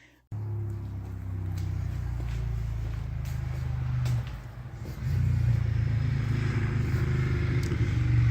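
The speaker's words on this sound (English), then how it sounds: "guys are still flying around here on bikes" Motorcycles ride past outside with a low engine rumble that holds steady, dips briefly, then swells louder and closer, heard at a moderate distance with no talking.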